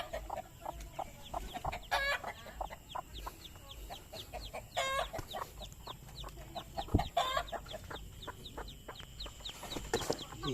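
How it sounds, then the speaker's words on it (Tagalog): Chicks peep in rapid high chirps amid clucking hens and an occasional rooster, a busy backyard flock in a rural Filipino hut setting heard close and continuous. "Sisiw."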